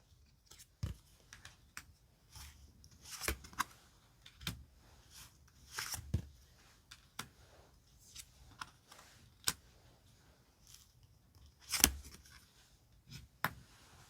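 Tarot cards are handled and picked out on a quiet table: soft, sparse taps, slides and crisp snaps come at irregular intervals, close and faint, with near silence between them and no voices.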